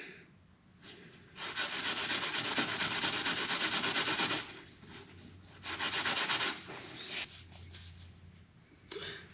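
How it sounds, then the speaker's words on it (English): A pad of Scotch Brite rubs briskly against a corroded steel fork seal washer from a BMW F650GS Dakar, giving close, raspy scrubbing strokes in several bursts with short pauses between them. "So I'll take a piece of Scotch Brite and clean that up before I reassemble it."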